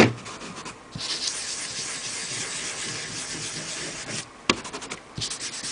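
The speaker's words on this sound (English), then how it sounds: "all I did was rub some ink on there and start from the outside edge and bring the ink in" Ink rubbed by hand onto paper cut-out pieces, working from the outer edge inward: a steady close scratchy rubbing that runs for several seconds, broken by brief pauses and a few light taps near the end.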